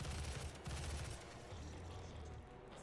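A weapon in the 2016 game Doom fires controlled bursts in the Foundry level: short, heavy, booming volleys repeat in quick clusters, loud and close with no pauses of silence.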